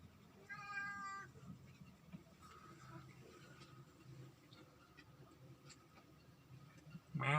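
A cat meows faintly near the start, then a louder meow at the very end, with quiet room background in between.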